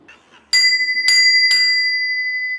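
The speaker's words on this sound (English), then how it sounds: "it actually rings the bell" A Downton Abbey style doorbell in a home rings three clear, bright bell strikes in quick succession, each leaving a long sustained metallic ring that hangs on to the end, loud and close after a brief quiet lead-in.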